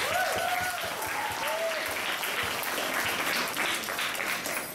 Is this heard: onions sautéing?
no